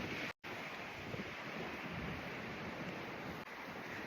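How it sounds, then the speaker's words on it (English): A strong December windstorm in Hayden, Idaho roars as steady, broadband gusting noise buffeting the microphone, with one brief dropout near the start and no talking. "This is the type of windstorm that blew everybody's trampoline away."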